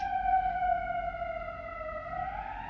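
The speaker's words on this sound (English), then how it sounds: "Do you hear the sirens?" A single emergency siren wails through a Chicago street, its steady rising and falling tone clear and moderately distant over low city rumble.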